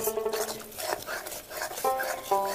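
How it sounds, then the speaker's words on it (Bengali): A spoon stirs a prawn curry masala with yogurt in a pan over low heat, scraping and clinking against the metal while the thick sauce faintly sizzles, close and continuous. "এইভাবে নাড়তে থাকবো।"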